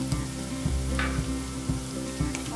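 Kashmiri red chili powder and garam masala sizzle and fry in hot oil in a pan for a malai kofta gravy, with soft rhythmic stirring scrapes every half second over a steady close crackle.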